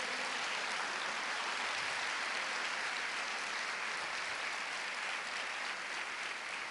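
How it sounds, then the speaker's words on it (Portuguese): A church congregation applauds during a sermon, a continuous, fairly faint wash of many hands clapping heard from a distance. "Você pode aplaudir a Deus pela minha vida?"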